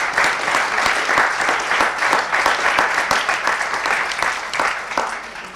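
Audience applause in the French Senate at a high-school eloquence and debate prize ceremony, many hands clapping in a lively sustained burst that tapers slightly toward the end.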